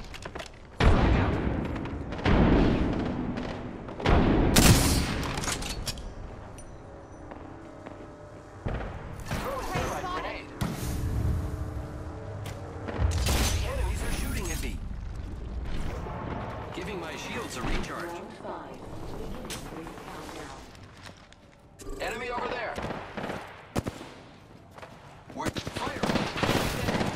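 Rapid bursts of automatic gunfire and several heavy frag grenade blasts in the video game Apex Legends, loud and close, dense throughout with a voice calling out over the combat.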